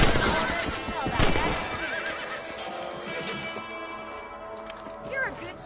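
A horse whinnies loudly twice in a western video game, amid clip-clopping hooves and game ambience, with a voice speaking briefly.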